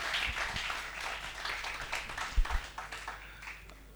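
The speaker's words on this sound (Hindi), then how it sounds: "तो एक बार तालियां बजाइए और अभिनंदन" Audience clapping for poet Anil Samota at a Hindi poetry recitation, a moderate round of scattered claps that swells briefly and then tapers off.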